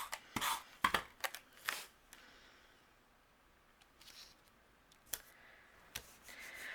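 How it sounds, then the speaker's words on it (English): A tape runner rolls adhesive onto a green cardstock panel for a birthday card, making several quick, scratchy rubbing strokes up close, then a quiet stretch with a few faint ticks. "And we'll use our tape runner for this."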